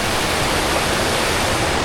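Loud, steady rush of river water churning beneath a trail bridge on a Nepal trek toward Annapurna Base Camp, a dense continuous roar filling the whole clip with no voices.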